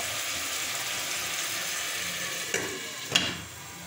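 Cauliflower and potato fry in a covered pan with a steady, even sizzle throughout, broken by two brief sharp clicks near the end.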